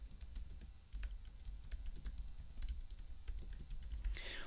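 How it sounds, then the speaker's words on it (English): Soft, quick keystrokes on a computer keyboard, a steady irregular patter of light clicks close by with no talking. "you can highlight the text and then just start typing to change it to anything that you need it to say"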